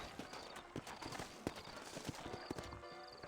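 In Red Dead Redemption, horse hooves clip-clop at a steady walking pace on hard ground, a run of quick, fairly close knocks with a faint background hiss and no talking.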